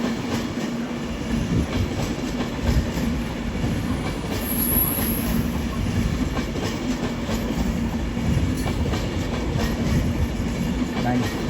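Avanti West Coast electric train 390-008 pulling out of London Euston, a steady low rumble with rhythmic wheel clatter and thin squeals, close and continuous throughout.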